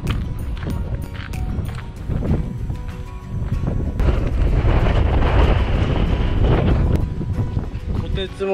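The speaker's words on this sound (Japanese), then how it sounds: "風が強いです。" Strong wind buffets the microphone on a trek near El Chaltén in Argentine Patagonia, a dense roaring rush that holds steady and swells into a louder gust midway before easing slightly.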